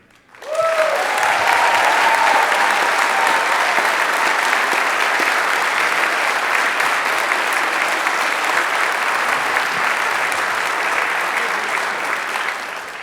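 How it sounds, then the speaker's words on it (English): A high school winter pops concert crowd gives a loud, sustained ovation for student performers, many hands clapping evenly for over ten seconds with a few brief cheers near the start. "Let's have one round of applause for all these incredible students tonight."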